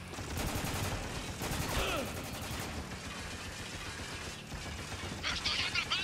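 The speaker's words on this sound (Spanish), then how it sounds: "¡Están disparando como locos!" Sustained bursts of automatic gunfire and mechanical clatter fill the Spec Ops: The Line shooter, dense and loud throughout, with a player's voice under the shooting.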